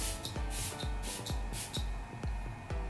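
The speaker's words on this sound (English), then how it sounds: "we're gonna go ahead and spray our skin with our Queen of Hungry Mist" Rapid pumps of a facial setting mist spray bottle misting onto skin during makeup priming, about half a dozen short, close hissing bursts in an even rhythm.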